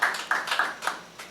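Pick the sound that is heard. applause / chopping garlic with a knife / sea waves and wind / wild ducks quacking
applause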